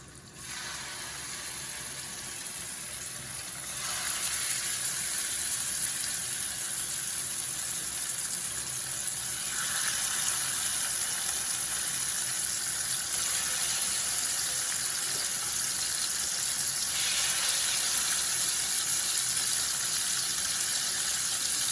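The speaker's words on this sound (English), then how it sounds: "And then I'm going to place the salmon right in the pan." Salmon fillet placed into hot oil in a frying pan, giving a steady, close sizzling hiss that swells louder a few seconds in and again midway, continuing without pause and with no voices.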